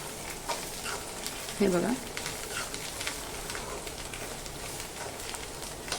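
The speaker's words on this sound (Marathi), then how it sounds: "त्याच्यामुळे तेलामध्ये हे सगळं अगदी छान परतून घ्यायचं." Sesame chutney ingredients sauté in oil over medium heat, a continuous crackling sizzle with stirring, while a voice briefly speaks over it early on.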